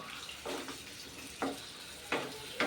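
Green chillies and tomatoes fry in oil for a brinjal chutney, with a gentle sizzle swelling into several short, louder bursts of spitting as the pieces are stirred or turned.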